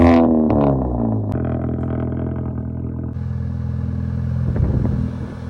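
A straight-piped Audi A3 exhaust while driving, giving a low, droning rumble with a brief rise in pitch at the start, then a steady, fairly loud hum and a few clattering bumps.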